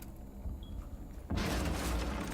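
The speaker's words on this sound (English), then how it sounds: "an excellently timed explosion there from the Buck" A grenade blast in the tactical shooter Rainbow Six Siege erupts suddenly partway through, a loud broadband boom that fills the rest of the moment after a quieter stretch of game ambience.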